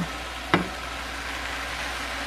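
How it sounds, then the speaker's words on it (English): Hot baklava gives a steady, soft sizzle as syrup is spooned over it, with a single clink of the spoon early on and no voices. "So now we're gonna take the syrupy stuff and spoon it all over it."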